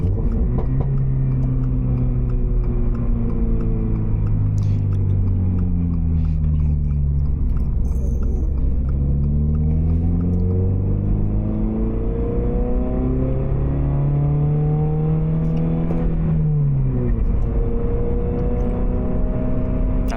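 A Subaru BRZ's flat-four engine drones loudly from inside the car while driving, its pitch rising and falling through several rev sweeps and shifts, with a deep steady hum beneath.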